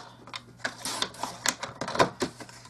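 Paper for a mini album is trimmed to 7 inches, giving a run of quick, close clicking and scraping taps that come in an uneven rhythm without speech.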